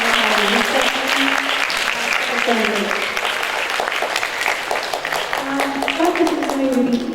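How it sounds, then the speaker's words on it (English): An assembly audience applauds young reception children, with steady, loud clapping throughout and high children's voices calling out over it. "can we give another round of applause for these little ones"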